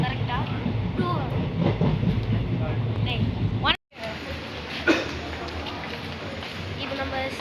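A passenger train rolls along its rails on a trip to the Nilgiris, a steady dense rumble with faint clickety-clack, briefly cut off by a short drop before carrying on; speech is faintly mixed in.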